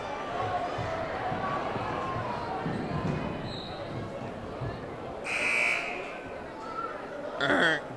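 A loud electronic buzzer sounds at the end of a boys' high school basketball game, cutting through the constant chatter and commentary of the crowd in the gym.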